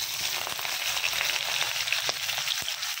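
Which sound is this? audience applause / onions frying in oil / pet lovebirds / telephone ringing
onions frying in oil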